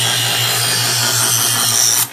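A knife blade is drawn through a Chef'sChoice 120 Diamond Hone EdgeSelect electric sharpener, a loud steady grinding hiss over the motor's low hum, ending abruptly as the blade is pulled out.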